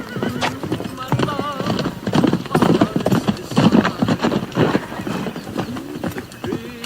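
Horse hooves clip-clopping in a classic western film scene, with rhythmic close hoofbeats mixed with a horse's whinny and people talking over them.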